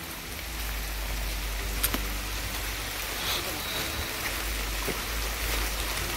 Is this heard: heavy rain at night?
yes